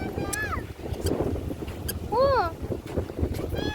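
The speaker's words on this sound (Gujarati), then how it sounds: "એટલો ઠંડો પવન આવ્યો છે ને જુઓ દરિયો" Cool sea wind at Madhavpur beach buffets the microphone with a steady, rushing roar. Someone talks over it, and a few short whistling cries break through.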